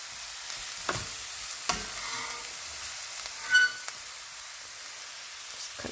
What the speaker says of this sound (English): Just keep stirring them around.